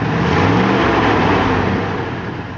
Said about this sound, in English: Go ahead and start it. And rev it a couple of times, you'll hear it backfire.